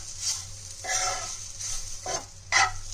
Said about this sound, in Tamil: இந்த மசாலாவை சேர்த்துக்கலாம் மட்டும் நம்ம லைட்டாக வதக்கிக்கலாம்